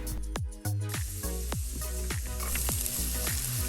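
Chopped garlic sizzles in a tablespoon of hot oil in a pan for penne pasta with shrimp, a steady close frying hiss with crackles and repeated clinks of a utensil against the pan.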